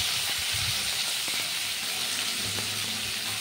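Green chilies and panch phoron (fenugreek, fennel, mustard and cumin seeds) dropped into hot oil hiss and sizzle steadily up close, with faint clinks underneath.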